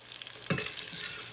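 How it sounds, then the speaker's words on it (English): Cumin seeds sizzle in hot oil, a soft continuous frying crackle with a brief stir or clink partway through, close and fairly quiet with no one speaking. "we're gonna wait for the cumin seeds to sizzle a little bit"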